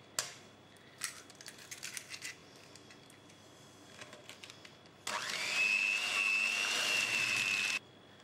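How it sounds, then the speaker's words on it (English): An electric mixer beats eggs into a cream cheese mixture, whirring loudly and steadily for about three seconds near the end, after a few quieter knocks and scrapes of the bowl. "just add them one at a time and then beat in between each egg"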